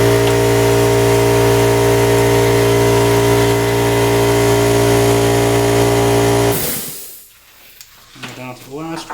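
Compressed air forced through the gas valves of a griddle, a loud steady hiss with a tonal hum that stops abruptly near the end, followed by quieter handling noise.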